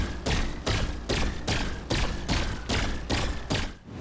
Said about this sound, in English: This is basically a mini laser pistol, and it sounds kind of like a stormtrooper's blaster.